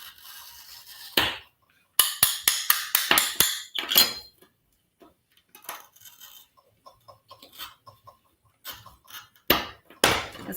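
Stained glass bud pieces being cut and snapped: sharp glassy clinks and taps in quick irregular bursts, some loud and close, others small and scattered, with short quiet gaps and no talking.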